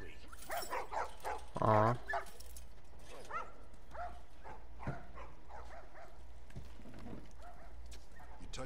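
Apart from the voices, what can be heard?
dogs barking and yipping in The Last of Us Part 2 video game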